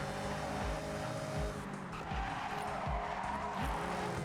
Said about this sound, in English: I hit the brakes a little hard right there.